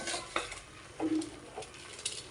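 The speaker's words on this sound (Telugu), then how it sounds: "కలుపుకొని ఒక 1 మినిట్ వరకు ఇలా ఫ్రై చేసుకోండి" A spoon stirs and scrapes a rice mixture frying in a pan before basmati rice is cooked, with soft sizzling under a few distinct scraping strokes and light metallic clinks, close and alone.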